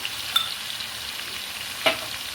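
A spoonful of cumin goes into a cooking pot, with a soft background hiss broken by two brief sharp crackles of sizzle and stirring, and no talking.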